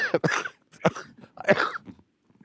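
Several harsh, hacking coughs close to the microphone, coming in uneven bursts with short pauses between them.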